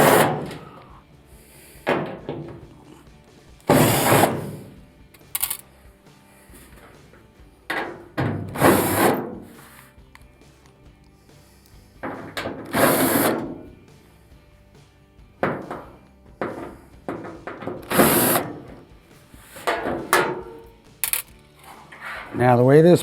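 Screws being backed out of an Amana dryer panel with a power driver: repeated short whirring bursts with pauses between them, close and fairly loud, with handling and rubbing noises in the gaps.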